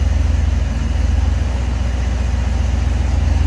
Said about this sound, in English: This is how you start a carbureted car